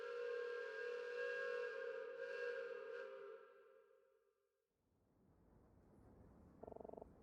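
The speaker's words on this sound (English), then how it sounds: "I knew train whistles were loud, but that was completely deafening." A loud, sustained steam train whistle in a detective video game, holding a steady multi-tone blast for several seconds before fading out, followed by quieter rumbling and a brief buzzing tone near the end.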